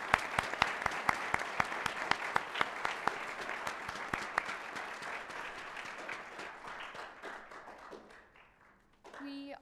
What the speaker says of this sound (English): Could we get a round of applause for them?